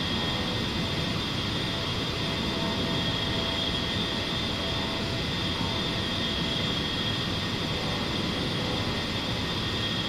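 In the DCS flight simulator, an A-10C Warthog's jet engines hold a steady, continuous roar at max power through the whole stretch, fairly quiet and with no voices over it.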